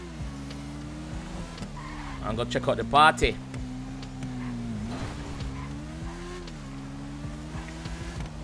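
Car in GTA 5 driving with a steady low engine drone, a short burst of tire squeal and skidding midway, while someone talks over it throughout.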